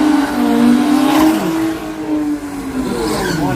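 A race car at a drag racing jamboree in Brisbane roars past loud and near. The engine note rises and falls through the run, with no talk over it.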